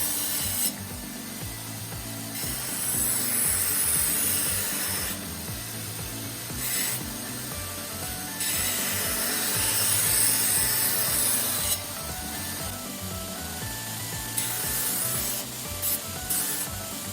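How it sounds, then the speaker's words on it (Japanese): A belt grinder with a coarse 60-grit belt grinds the bevel of a Damascus steel Japanese kitchen knife, a loud continuous rasping hiss whose passes swell and drop as the blade is pressed on and lifted off. "60番のベルトでキラと切れ刃を作っていきます。 キラと切れ刃を交互に削って計算で出した数値にします。"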